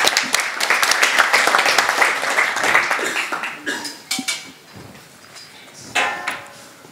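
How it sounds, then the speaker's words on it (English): An audience at a hackathon pitch event applauds, a dense burst of clapping that thins out after a few seconds into scattered claps and knocks. "please give Run Right a welcome applause"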